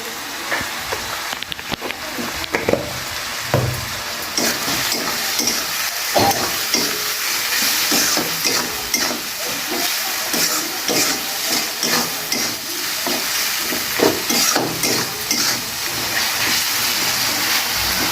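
Spice masala frying with cumin powder and sugar for chana masala, a steady close sizzle broken by repeated scraping stirs of a spatula against the pan, no talking.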